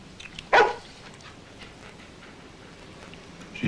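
One short, sharp dog bark sounds once near the start of a TV drama scene, then only quiet room tone follows.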